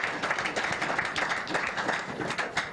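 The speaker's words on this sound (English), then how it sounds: "Make we clap for Ronaldo." A studio audience on a Nigerian call-in radio programme claps together in a steady, crowded patter at moderate volume, with no talk over it.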